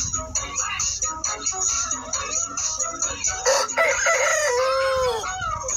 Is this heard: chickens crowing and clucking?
yes